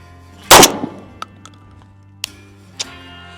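A single loud Mossberg 990 shotgun blast fired outdoors, a sharp broadband crack with a short decaying tail, followed by a few faint scattered clicks and ticks.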